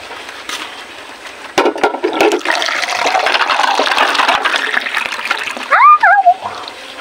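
Water splashing while someone fetches it outdoors in the countryside: a sudden burst of sloshing and splatter that continues steadily, close and fairly loud, with a voice briefly at the end.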